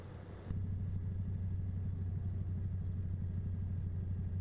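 A steady, loud truck engine drone in American Truck Simulator, with a low throbbing rumble running nonstop after a brief quieter start, like a heavy vehicle engine idling or revving.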